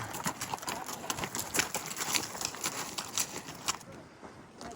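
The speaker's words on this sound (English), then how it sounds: "one mule went the wrong way" Mules carrying climbing gear on a rainy trail toward Aconcagua clop along in an irregular series of hoof strikes, fairly close and moderately loud over a background hiss of rain.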